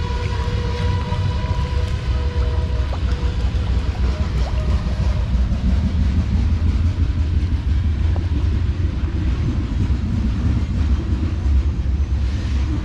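A loud, continuous rumble of a train rolling past up close, steady roar with faint squeals and clatter, no talking.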